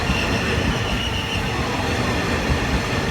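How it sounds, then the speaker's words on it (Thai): Express train 31 from Bangkok to Su-ngai Kolok rolls into platform 1 at Ban Pong station, a loud, continuous rumble of wheels and carriages close by, with faint squeal and clatter throughout. "ตอนนี้เข้าสู่ชานชลาที่ 1 ของสถานรถไฟบ้านโป่ง"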